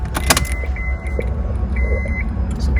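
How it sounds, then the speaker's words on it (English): A 2008 Honda S2000 is started, with keys jangling at the ignition, a brief whirr and then a low steady engine rumble close by, accompanied by electronic beeps and tones. "And go ahead and start up the car."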